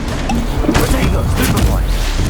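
A Bombarda explosion spell in the Hogwarts Legacy video game goes off as a couple of sharp, loud blasts amid busy combat noise, with a voice-like layer running underneath.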